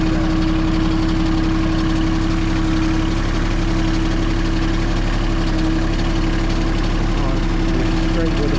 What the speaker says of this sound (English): He's on the tractor. He's set up in four-wheel drive here